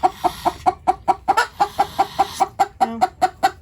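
A hen clucks rapidly and rhythmically, a steady run of sharp, close clucks with barely a pause between them.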